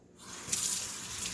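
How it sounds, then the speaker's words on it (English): A kitchen tap starts running for handwashing, water rising quickly into a steady near splash against the sink, alone with no voices. "I'm going to wash my hands"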